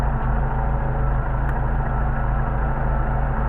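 A Mercedes 190SL engine idles at about 800 rpm with freshly tuned carburetors, a loud, steady low rumble that holds even throughout, close up.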